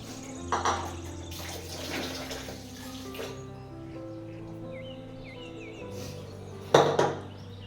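Water sloshes and trickles in a vessel as rice is rinsed, with a couple of sharper splashes and clinks, fairly close and quiet overall.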